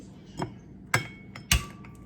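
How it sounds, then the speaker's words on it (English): Eggs are cracked for a quiche, three sharp close taps of shell against a hard edge spaced about half a second apart, each a brief crisp knock in a quiet kitchen. "So I'm gonna crack these eggs and I'm gonna put them straight into my blender."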